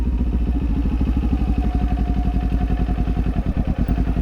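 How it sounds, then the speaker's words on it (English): A motorcycle engine running with a rapid, pulsing thump, the rhythm loping and uneven as the engine braking sets in, steady and close. "That's because we're engine braking."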